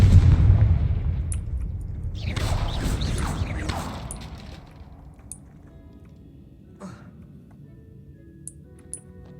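A Confringo blasting spell explodes in Hogwarts Legacy, a loud broadband burst rumbling for several seconds before decaying into a quieter ambience broken by a few faint sharp clicks.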